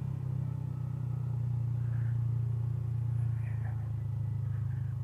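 An older Yamaha Vixion motorcycle engine rumbles low and steady after a downshift on a steep, winding descent, a continuous near drone with slight swells and faint background noise.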